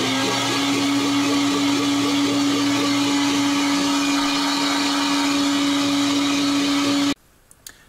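An insulation blowing machine runs its blower and airlock together, giving a loud, steady mechanical whine and rush with a droning tone that cuts off abruptly near the end, leaving quiet clicks.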